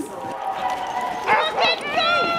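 Sled dogs at a large kennel bark and yip together in a busy chorus, several overlapping voices at moderate distance with steady background noise throughout.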